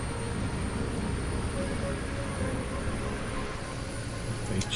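Airplane engine at full power in a flight simulator game, a steady low droning roar with a faint high whine on top, moderately quiet and continuous.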